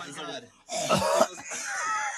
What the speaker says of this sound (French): Quelqu'un qui tousse.